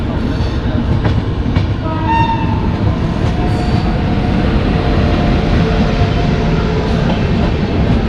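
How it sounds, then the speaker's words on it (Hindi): The Ghazipur City Superfast Express passes close by as a loud, steady roar of rail cars, with a horn tone sounding partway through and continuous rumble and clatter throughout. "और ये निकल गई गाजीपुर सिटी सुपरफास्ट एक्सप्रेस"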